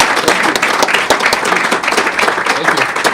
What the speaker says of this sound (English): I want to give a big round of applause to Steve for sharing the story with us.